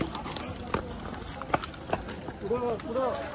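Bulls walk along a village road ahead of a race, their hooves clopping in scattered, uneven knocks at moderate distance, with someone talking over the steps and a brief animal call near the end.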